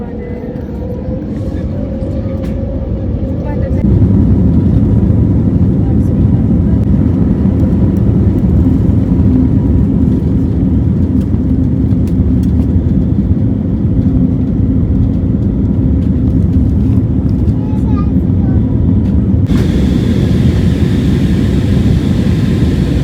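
Airliner taking off on a flight to Hyderabad, its loud, steady engine roar filling the cabin, the pitch rising as power builds and then holding as a heavy drone.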